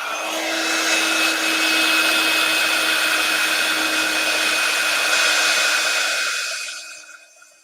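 A handheld dryer blows steadily on craft work, a loud continuous whooshing hum with a faint whine that holds for several seconds and then winds down at the end, no voices.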